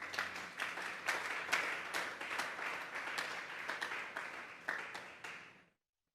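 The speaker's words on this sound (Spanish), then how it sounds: "Denle un fuerte aplauso pues al Señor" A church congregation claps during a Sunday service, steady loud applause from many hands for several seconds before it stops abruptly.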